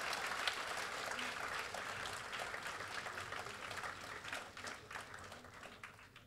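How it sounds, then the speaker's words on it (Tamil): Audience applause at a college Carnatic music event, a dense steady patter of many hands clapping at moderate distance that fades slightly toward the end. "நல்ல கைத்தட்டு கொடுக்கலாம்"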